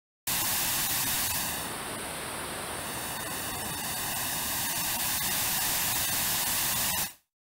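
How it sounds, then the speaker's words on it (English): Continuous broadband white noise passed through a comb filter with high feedback, giving a steady, loud hiss with faint resonant, reflective ringing tones layered through it, sustained for about seven seconds before cutting off abruptly. "increasing the feedback will just basically make everything, quote unquote, reflect a lot more. We could hear it on our white noise."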